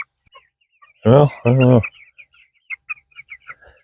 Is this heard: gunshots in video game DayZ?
no